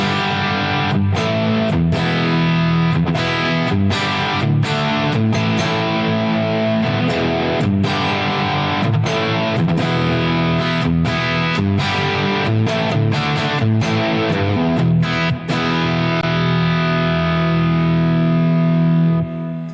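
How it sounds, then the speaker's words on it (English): Distorted electric guitar through a Jeff Beck humbucker pickup plays a dense, continuous riff with chugging, rhythmic attacks and sustained saturated chords, loud and close throughout with no talking. "On a distorted sound, it sounds like this."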